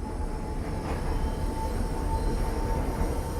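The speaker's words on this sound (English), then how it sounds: "I just sent the train out." An NYC subway R68 train in the OpenBVE simulator game rolls along with a steady, loud, dense rumble and a faint high whine throughout, with no voices.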